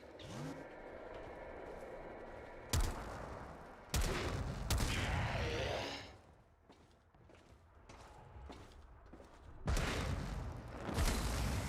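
Gunfire in the game Warframe, played on Switch, comes as a handful of loud, abrupt shots separated by quieter stretches, with game ambience and effects rumbling in between.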